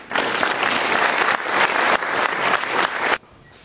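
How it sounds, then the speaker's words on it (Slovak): Audience applause at a music school gala concert, a dense, loud wash of clapping from a large crowd that swells in waves and then cuts off abruptly near the end. "Jeden obrovský potlesk."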